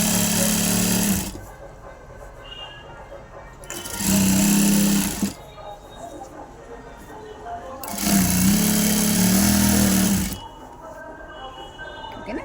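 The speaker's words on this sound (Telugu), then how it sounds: "లాస్ట్ వరకు ఇలా స్టిచ్ చేసుకోవాలి." A sewing machine stitches a pant waistband in three loud, sustained bursts separated by quieter pauses, each run steady and motor-driven, with a voice speaking between runs.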